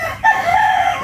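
A rooster crows once, close and loud, a short harmonic call over a faint background of hens on an egg-laying farm.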